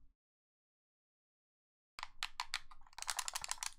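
Rapid clicking of computer keyboard keys while remapping game controls in a browser game, starting after a stretch of silence and growing denser and louder, with no talking.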